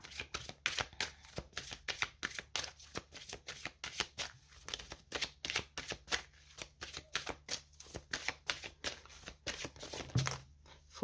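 Oracle cards are shuffled over and over in a steady rhythm of soft, close riffling flicks, quiet and unbroken by talk.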